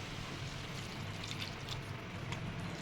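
Boiled water poured into a jackfruit curry with tomato gravy, a steady low splashing pour lasting throughout, close and moderately quiet.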